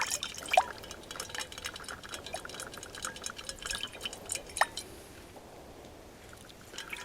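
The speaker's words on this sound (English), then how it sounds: "I'm just gonna sort of swish around, get all the oatmeal residue off of there" Water sloshes and swishes around inside a camping pot to rinse out oatmeal residue, outdoors on a winter hammock camp. Soft, close splashes and drips recur unevenly, then taper off toward the end.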